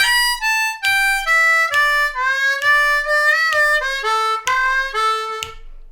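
A D harmonica plays a blues lick with a half-step bent 3 draw falling to the 2 draw, about eight crisp rhythmic note attacks stepping downward, close and solo over a faint foot tap.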